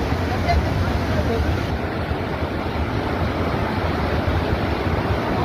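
A constant, heavy rushing roar of water from a sudden cloudburst fills the clip, dense and unbroken, a downpour and fast floodwater surging nearby.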